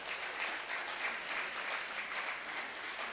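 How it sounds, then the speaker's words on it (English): A graduation ceremony audience applauds for the IGCSE class of 2026, a dense, steady wash of many hands clapping at a moderate distance, holding level for the full stretch without voices over it. "let us celebrate the IGCSE class of 2026 with a round of applause"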